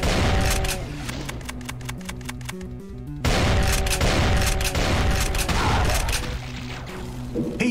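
The Stomper weapon firing in the Doom mod UAC Blacksite, a fast rhythmic train of heavy booming shots in two long bursts split by a brief pause, loud and close.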